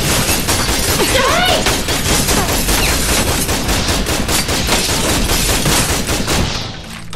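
Dense, loud gunfire from guards in the video game Tales from the Borderlands, a continuous rattle of rapid shots and impacts that fades slightly at the end.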